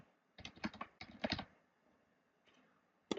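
Keystrokes on a computer keyboard in two quick bursts of typing, close and fairly quiet, followed by a lull with a faint key tap and a final click.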